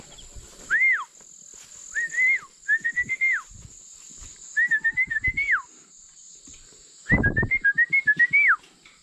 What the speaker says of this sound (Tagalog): Pag sumipol ako, talunan yan.